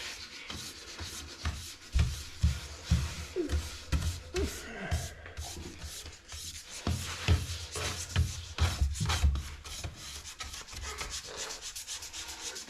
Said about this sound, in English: Keep sandpapering.